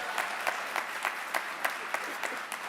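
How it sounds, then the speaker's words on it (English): An audience at a Martin Luther King Jr. tribute event applauds. The clapping is soft and fairly distant, with a few louder claps standing out at regular intervals. "One more round of applause for Ms. Anne-Marie."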